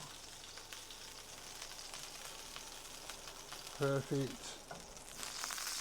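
Steaks searing in a hot pan, a steady close sizzle and crackle of frying fat running throughout, with a man's brief spoken word partway through.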